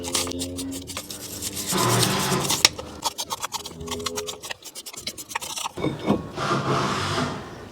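Scrubbing and wiping gunk off a Toyota Camry brake caliper boot during a front brake job, close rubbing and scraping strokes in irregular bursts with brief pauses and light clicks, no talk.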